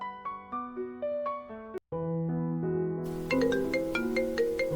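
A melodic phone ringtone plays during an outgoing call in a Telugu web series. Clear, bright chiming notes repeat in a pattern, cut by a brief gap, then resume fuller and a little louder.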